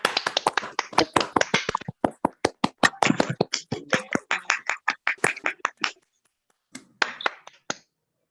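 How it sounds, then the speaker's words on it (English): Scattered claps from a virtual audience with open microphones after a mathematics lecture, sharp separate hand claps arriving in uneven bursts, some close and crisp, others thin, thinning out toward the end with brief silences. "Maybe we can invite the audience to open their microphones and clap."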